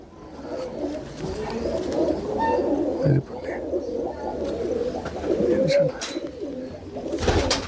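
Pigeons coo in a busy chorus, with murmuring voices in the background and a few sharp clicks.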